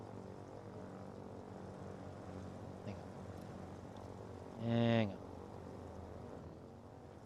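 A propeller plane engine in the game Foxhole drones steadily in the background while a person speaks briefly over it.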